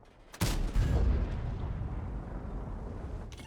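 A tank's main gun fires in World of Tanks, a single loud, booming shot followed by a long rumbling decay, heard alone with a faint second report near the end.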